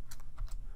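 A few quick keystrokes on a computer keyboard as a networking command is typed in, short clicky taps close by with no talking.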